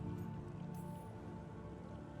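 Steady rain falls in Dragon Age: The Veilguard, a dense, even patter of drops and splashes that runs unbroken from start to finish at a moderate, close level.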